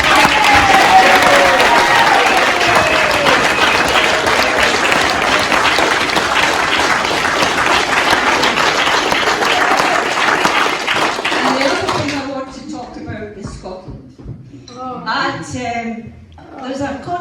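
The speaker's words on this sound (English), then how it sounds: "I want a round of applause" Guests at a Burns Supper burst into loud, sustained applause that fills the room for about twelve seconds, then die away as a voice starts talking.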